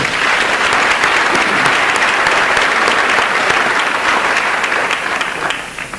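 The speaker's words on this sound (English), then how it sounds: "I think deserves a round of applause" Sustained audience applause at a high school graduation ceremony, a dense, steady wash of many hands clapping from a large crowd, loud throughout and tapering slightly at the end.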